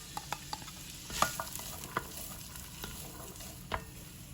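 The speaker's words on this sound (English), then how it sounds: "I'd say give it a stir about 2 to 3 times." Carrots and celery being stirred in a pot for chicken pot pie noodles, a few soft scraping strokes over a steady low sizzle, close and fairly quiet.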